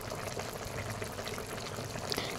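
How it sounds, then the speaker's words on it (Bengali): Bengali-style pond-fish curry boiling in a pan, a constant low bubbling and sputtering hiss that is close and fairly quiet, with no voices. "দেখুন একদম টকবক টকবক করে ফুটছে"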